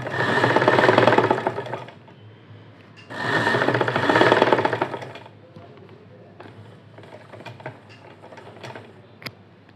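A sewing machine stitches fabric along an invisible hanging design seam in two loud, steady whirring bursts, followed by quieter rubbing and handling of the cloth.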